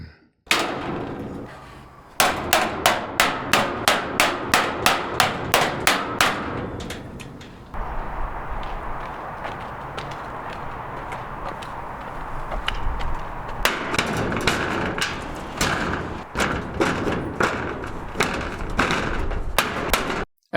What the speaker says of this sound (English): it was time to crack out the new tool, the riveting gun